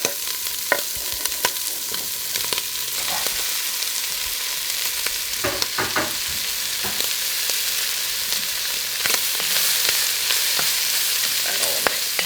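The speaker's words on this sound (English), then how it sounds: "I can throw the onions and celery in" Sausage with freshly added onions and celery fries in a pan, a constant close sizzle broken by repeated scraping and clattering strokes of a utensil stirring the mixture.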